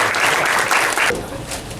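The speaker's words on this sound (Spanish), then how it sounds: "le voy a pedir un aplauso para Edgardo antes de empezar" Audience applause for Edgardo at an evening talk, dense clapping for about a second before fading into quieter room noise.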